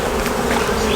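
Angry honeybees at a hive opened for inspection fill the air with a loud, dense, continuous buzz, close up and with no voices.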